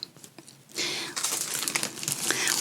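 Close, continuous crinkling and rustling of a thin plastic bag, starting soft and growing louder as it is handled.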